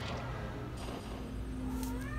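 A kitten meows in a hidden-object video game, a short mewing call over a steady bed of game music and low hum, moderately quiet and unaccompanied by talk.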